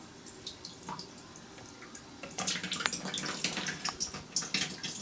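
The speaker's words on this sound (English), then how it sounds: "there's some water out of the RO unit" Water running from an RO filter unit into a container, a steady trickle with splashing that grows louder and fuller partway through, with no talk.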